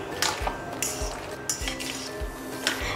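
A spoon stirs and scrapes through fruit salad with Greek yogurt and honey in a bowl, with repeated soft clinks and wet scraping strokes in a steady rhythm, close up.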